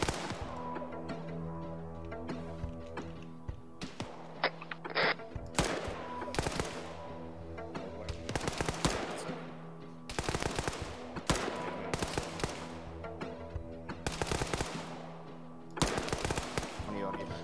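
Automatic rifle fire from a player's weapon in a military shooter game comes in repeated loud bursts and single shots throughout, with a voice talking between volleys.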